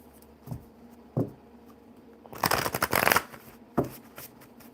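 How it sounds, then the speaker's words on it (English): A deck of crow oracle cards is handled and shuffled close by: a few soft taps and knocks, then a brisk riffle of flicking cards lasting about a second, followed by another tap, with no talking. "Where I should be shuffling the crow cards."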